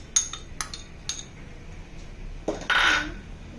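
Cut cucumber pieces dropped and tipped into a bowl while making a green vegetable salad: a few light clinks and taps followed by a short scraping clatter, close and moderately loud, no talking.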